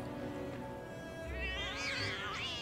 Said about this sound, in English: Aw, little cats.